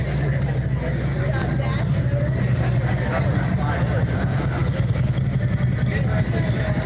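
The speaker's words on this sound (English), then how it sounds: "loud with motorcycles." Motorcycles at the DeLand Bike Rally at the start of Bike Week rumble steadily with low engine drone, under a busy babble of crowd chatter close by.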